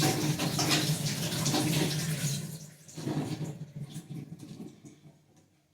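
Yam bean is washed under running water: a rushing tap stream splashes steadily for a couple of seconds, then breaks into softer, intermittent trickles and drips before fading out.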